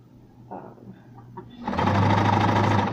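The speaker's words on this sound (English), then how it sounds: "use this my noisiest sewing machine" A noisy home sewing machine stitches a straight seam at high speed, starting with a few soft clicks and then breaking into a loud, steady, close-up mechanical whir that carries to the end.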